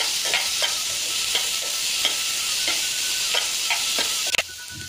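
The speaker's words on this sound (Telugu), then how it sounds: "ఉల్లిపాయలు వేగుతూ ఉన్నాయి కదా" Chopped onions with ginger-garlic paste frying in a pan give a steady loud sizzle, broken by regular scraping strokes of a spoon stirring them, roughly two per second, ending in a sharp clatter.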